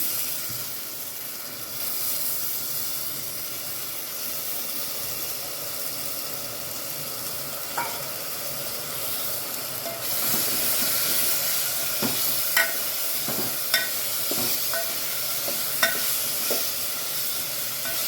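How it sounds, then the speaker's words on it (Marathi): Moong dal sizzles steadily in a hot pan, a continuous frying hiss with occasional sharp pops and crackles that grow a little louder toward the end. "आता मुगाची डाळ घालते मी."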